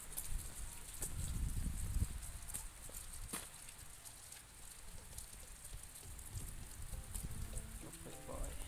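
Evening rain falls steadily in Surat Thani, Thailand, a close, continuous hiss with heavier low patter early on and scattered drops striking surfaces throughout.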